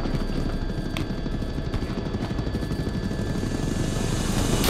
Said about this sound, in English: Can you hit the helicopter on the left?